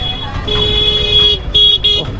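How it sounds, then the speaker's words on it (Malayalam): Car horns honk in short repeated toots on a busy morning road in Kanyakumari, Tamil Nadu, the blasts close and loud over a constant rumble of passing traffic. "രാവിലെ ഹോണൊക്കെ അടിച്ച് തകർത്തുകൊണ്ട് പോവാ വണ്ടിക്കാർ"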